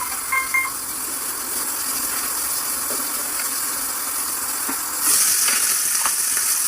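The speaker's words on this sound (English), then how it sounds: "when I'm pan frying the fish" Continuous close sizzling of a whole fish frying in a pan, a steady crackling hiss that grows slightly louder toward the end.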